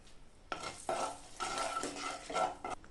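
A spoon scrapes and clinks through dried red chillies and whole garam masala spices frying in oil in a pan, in short uneven strokes over a faint, low sizzle.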